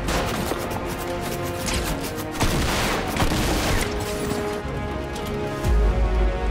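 Dense gunfire crackles in a Fortnite battle, rapid overlapping shots and booms that are loud and continuous, with a heavier burst near the end.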